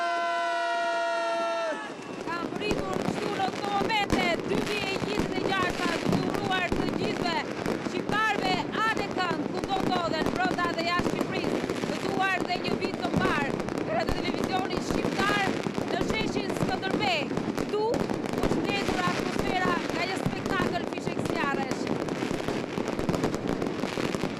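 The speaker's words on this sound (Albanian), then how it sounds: "Qielli u ndez nga fishek zjarret" New Year fireworks burst over crowded Skanderbeg Square in Tirana, a dense, continuous crackle and boom of many rockets and firecrackers lasting the whole stretch, with a cheering crowd and scattered whistles mixed in, starting right after a brief sung or shouted note.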